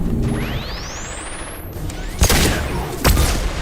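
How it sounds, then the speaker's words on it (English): Flashbang grenades going off in Mass Effect 2, a rising whooshing whistle followed by two sharp, loud bursts about a second apart, close and punchy over background combat noise. "Watch out, flashbangs!"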